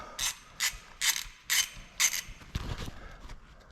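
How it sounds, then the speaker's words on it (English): A ratchet works on the speedometer cable bolts of a 1983 Z31 transmission, five distinct bursts of rapid pawl clicking in a steady rhythm, then a rougher clunk as the bolt comes loose. "remove the bolts holding the speedometer cable."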